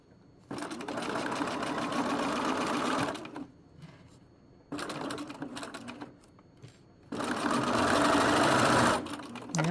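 A sewing machine stitches a shoulder seam during a garment alteration, running in two long steady bursts with a shorter run between them, each stopping abruptly into quiet pauses.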